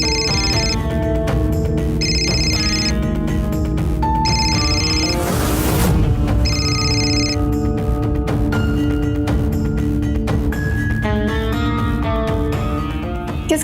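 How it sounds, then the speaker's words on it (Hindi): Phone ringing indoors, a repeating electronic ringtone in bursts over layered background music, steady and fairly loud with no talk. "किसका फोन है?"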